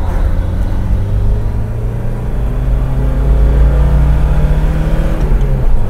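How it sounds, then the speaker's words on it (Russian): Lada Niva 4x4 (VAZ 2131, 2000, five-door) engine pulling hard to overtake a creaky bus, a steady loud low drone with rising engine tone heard from inside the cabin, no talk. "Вот сейчас попробуем обогнать скрипящий автобус."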